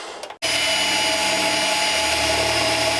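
A power drill bores a hole just over half an inch into the body of a 1967 Chevrolet C10 truck, starting abruptly after a brief pause and then whining loud and steady at close range.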